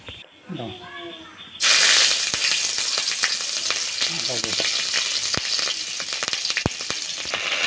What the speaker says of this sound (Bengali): ফোড়ন দিয়ে দেবো কালো জিরা